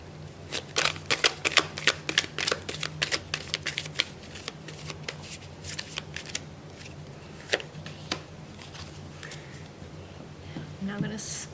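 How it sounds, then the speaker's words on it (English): A tarot deck being shuffled by hand, with quick riffling and tapping bursts of card noise in short repeated runs, close and fairly quiet, with a speaker talking briefly between shuffles. "a few shuffles."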